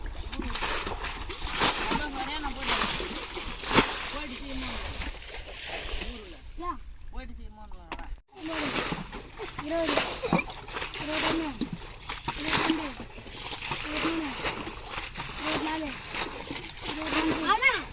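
Repeated sloshing splashes of water being poured, continuous and close, with excited voices talking over it throughout.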